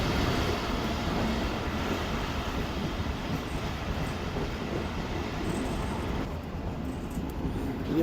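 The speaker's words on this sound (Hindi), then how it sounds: "दोस्तों तो शादरा पर अप्रोच बना ली है ट्रेन ने।" The Karakoram Express approaches Shahdara station near Lahore as a continuous loud rolling rumble with wheel clatter and faint squeal, steady for several seconds, with no talking.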